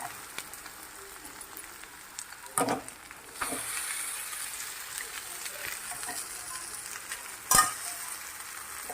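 Noodles tossed with cabbage and carrot in a hot pan over high flame give a steady, fairly faint sizzle with a few sharper clattering stirs, street-style veg noodles.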